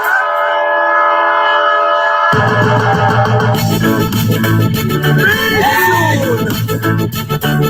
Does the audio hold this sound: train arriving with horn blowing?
yes